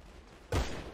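In GTA V a gunshot cracks out suddenly after a quiet moment, one loud, close burst with a short tail.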